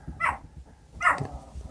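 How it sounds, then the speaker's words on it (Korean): A pet dog barks twice indoors at home, two sharp, fairly close barks about a second apart over a quiet room. "저희 집에 강아지가 지금 짖고 있어가지고요."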